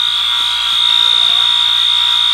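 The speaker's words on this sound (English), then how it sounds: "Refrigerant leak alarm." Wheelock refrigerant leak alarm sounding, a loud continuous high-pitched electronic buzz that holds steady and close throughout, with faint clicks beneath it.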